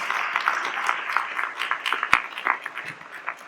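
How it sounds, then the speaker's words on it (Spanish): A church congregation applauding, a busy spread of hand claps at moderate distance with one sharp loud clap standing out partway through, continuing steadily and thinning toward the end. "Dale fuerte el aplauso al Señor."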